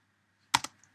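A command being typed on a computer keyboard to set up a wireless adapter on a Raspberry Pi, heard as two quick, crisp key clicks close by in otherwise quiet surroundings.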